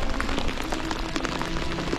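Steady rain falls on a fishing session during the opening of the season, a dense continuous patter close by with no pauses, filling the whole stretch without any voices.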